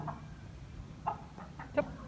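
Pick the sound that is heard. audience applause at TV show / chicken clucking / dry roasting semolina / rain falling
chicken clucking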